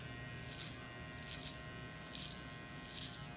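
A buzzing electric hair trimmer cuts a freestyle design using only the tip of its blade, with a steady close hum and four short, brighter bursts as the blade bites into hair.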